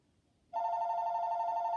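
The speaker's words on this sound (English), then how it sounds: "Oh, got a phone call coming in." A house telephone starts ringing abruptly after a short quiet moment, a steady, sustained electronic bell tone that continues unbroken, clear and close.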